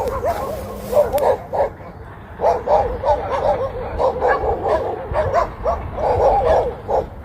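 Guard dogs bark and yip in quick, overlapping bursts close by, a chorus of excited barking that keeps going almost without pause.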